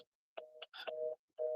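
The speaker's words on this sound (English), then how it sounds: "let me hang up this phone." A telephone sounds a sequence of short, steady electronic beeps after being hung up, clean pulses separated by silent gaps, close and clear with no talking.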